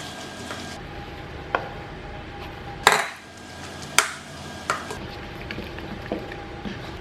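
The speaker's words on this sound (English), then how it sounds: "Add the egg whites in a little bit at a time and stir in between each addition." Spoon scraping and knocking against a bowl while egg whites are stirred into keto muffin batter, with several sharp clinks spaced irregularly over soft, close mixing noise.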